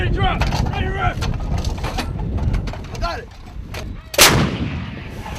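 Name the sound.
155 howitzer artillery live fire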